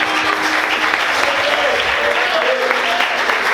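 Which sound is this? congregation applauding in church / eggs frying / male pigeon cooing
congregation applauding in church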